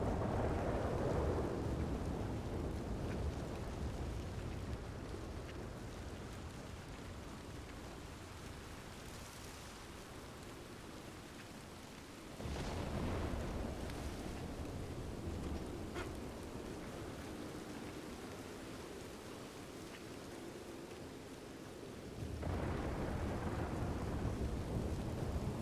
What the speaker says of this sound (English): Oh, this rain came out of nowhere.